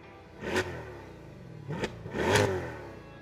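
A Corvette E-Ray's LT V8 engine revs in three distinct bursts, each rising and falling sharply, the last longest and loudest, with no voices over it.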